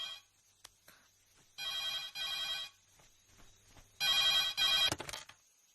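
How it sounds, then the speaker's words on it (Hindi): A phone rings in two loud electronic bursts separated by a pause, with faint clicks and room noise between rings. "हाँ शालू, इस वक्त फोन कैसे?"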